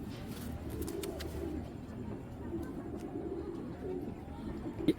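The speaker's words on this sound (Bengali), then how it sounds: "বাবরা কবুতর কালো গোলাপ বা অনেকে কালো গোলা নাপতেও বলে কালো গোলা কবুতর বলে" Black Babra pigeons, also called black gola pigeons, cooing in a low, steady murmur throughout, with soft rustling and a brief louder knock at the very end.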